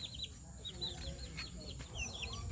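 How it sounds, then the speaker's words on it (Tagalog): Several chickens cluck and chirp softly nearby in short repeated bursts over a low background hum. "Andito na yung mga manok."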